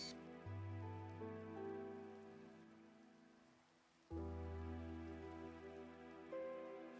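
Rain falling in Minecraft, a soft steady patter heard under sustained musical tones that fade out and then return.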